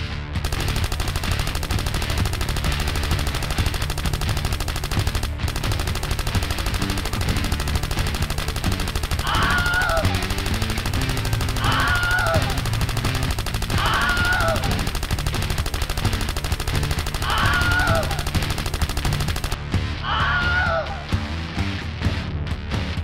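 An Aftermath Kalashnikov 47 fires in a video game in a steady stream of automatic bursts over a dense, busy background of game noise and music, with a few short sharper bursts standing out near the end.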